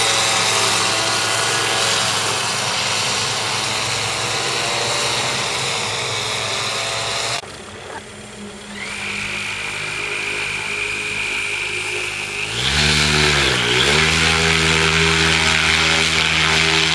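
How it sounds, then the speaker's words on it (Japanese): An electric motor paraglider runs up for takeoff at a demo flight in Furano, its high-pitched propeller whine steady and loud throughout, briefly dipping then rising to a stronger, higher drone near the end. "上野さんの離陸お昼の便です。"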